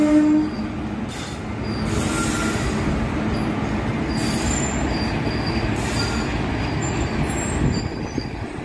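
The Palnadu Superfast Express runs along the track from Vikarabad toward Guntur, a continuous close rumble of wheels with high squeals and a brief horn-like tone early on.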